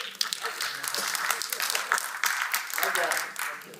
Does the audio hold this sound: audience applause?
yes